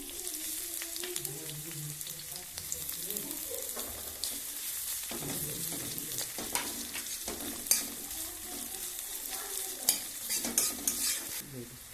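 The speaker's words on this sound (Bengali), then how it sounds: "প্রথমে কাঁচা লঙ্কা চেরা দিয়ে দিলাম, ফোড়ন দিয়ে দিলাম, পেঁয়াজ কুচানো দিয়ে দিলাম," Slit green chilies, whole spices and chopped onion frying in a pan, a steady close sizzle with scraping stirring strokes and occasional utensil clicks, no talking.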